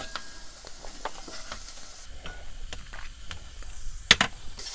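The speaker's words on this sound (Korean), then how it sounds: "이렇게 구수한 냄새가 나면서 바삭하게 볶아주면 여기에다가 아까 준비해둔 재료 중에 무를 넣어줍니다." Cheonggukjang stir-fried in a pan until crisp before radish is added, a soft sizzle broken by scattered scraping and stirring clicks, close and fairly quiet, with a sharp clatter near the end.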